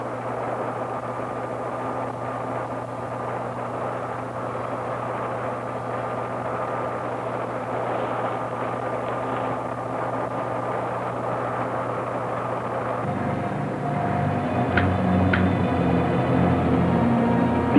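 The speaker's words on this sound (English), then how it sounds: "Ready for blastoff." A rocket blasts off in a 1968 science-fiction film, a steady roaring rumble that holds for many seconds before shifting into a rougher, louder roar with a few sharp high tones near the end.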